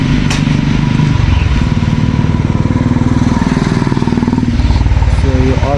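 A KTM Duke 200 BS6 motorcycle engine runs steadily and loud at close range at a KTM showroom for servicing, with a low, even throbbing pulse throughout and faint voices in the background.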